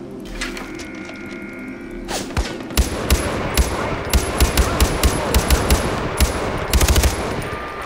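Rapid automatic gunfire in the video game Far Cry 4, with bursts of close, loud shots cracking repeatedly over a steady background of game ambience.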